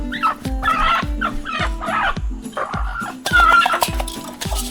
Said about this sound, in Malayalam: അടക്കോഴികളാണ്.